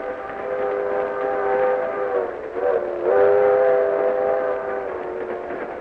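A steady rumbling train with a sustained whistle blows throughout, dipping briefly then swelling again, used as a sound effect in an old-time radio drama.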